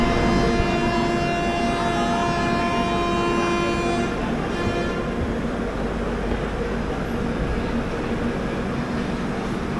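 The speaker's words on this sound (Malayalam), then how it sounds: "5:25 ചെന്നൈ സെൻട്രൽ സ്റ്റേഷനിൽ നിന്നും 12027 MGR Chennai central KSR Bengaluru ശതാബ്ദി എക്സ്പ്രസ് യാത്ര പുറപ്പെടുകയാണ്." The 12027 Shatabdi Express, running from Chennai Central to KSR Bengaluru, gives a long sustained horn blast while departing Chennai Central station, with loud, continuous rail rumble underneath.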